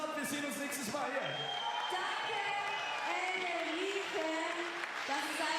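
Crowd applause and cheering for a player at a FIBA 3x3 basketball World Tour game in Vienna, steady and broad throughout, with shouts and whoops rising above it and talk mixed in.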